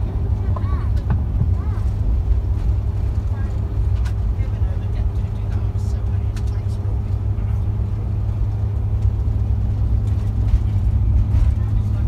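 Low, steady drone of a bus interior while riding on the way to Stonehenge in England, with constant engine and road rumble, a few faint clicks and rattles, and no clear talk.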